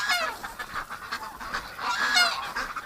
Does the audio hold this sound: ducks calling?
yes